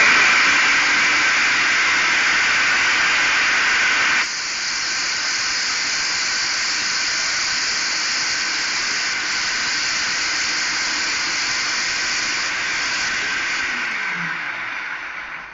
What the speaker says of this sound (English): We're going to go ahead and blend this.